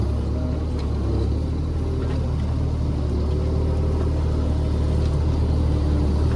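A JCB 30PLUS backhoe loader engine runs loud and steady, a continuous low rumble with a heavy, noisy drone close by and no talk over it.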